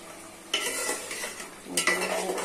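Potato and eggplant sautéing in a pan as chopped tomato is added, a quiet hiss that jumps into a louder sizzle with spatula scrapes and a second burst of crackling near the end.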